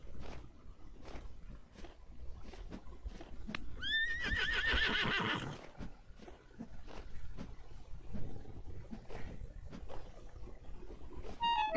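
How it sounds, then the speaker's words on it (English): A horse in the video game Vintage Story lets out one loud, drawn-out whinny in the middle, with quieter hoof and movement sounds around it and no talking. "Let's get this horse for sure."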